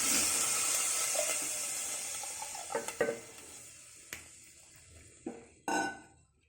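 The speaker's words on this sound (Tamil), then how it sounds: "இந்த தேங்காய் பால் நம்ம ஊற்றிட்டோம்." Coconut milk pours into a pot of rice pulao with a soft, steady liquid wash, broken by a few brief clinks and scrapes of a utensil against the pot near the end.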